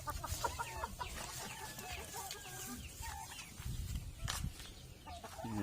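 Shamo gamefowl cluck and murmur close by in irregular bursts, with rustling and scratching around them and a louder squawk near the end.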